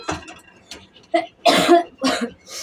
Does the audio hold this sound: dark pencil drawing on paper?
no